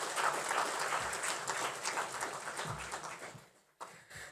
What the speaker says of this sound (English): Can we have a bigger round of applause for our Chairman, Chancellor, Professor Lakshman Ratnayaka